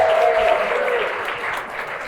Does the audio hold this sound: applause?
yes